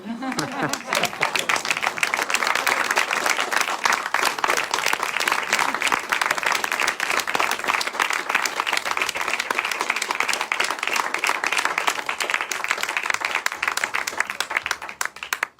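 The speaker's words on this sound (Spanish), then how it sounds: "Un aplauso para estas personas que están aquí presentes" Sustained applause from an audience at a poetry recital in Otxarkoaga, dense and steady clapping for about fifteen seconds before trailing off at the very end.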